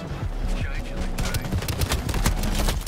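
Rapid gunfire from the online shooter Shatterline, a dense burst of repeated shots, some likely from a scoped shotgun, rattling steadily over game music and effects, with a player talking intermittently.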